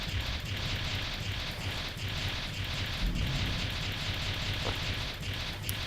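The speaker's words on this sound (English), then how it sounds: "Man, we are doing a barrage of missiles." A barrage of missiles explodes in the brick-breaker game Ricochet Infinity, merging into a steady, dense roar of overlapping blasts and crackles that never lets up.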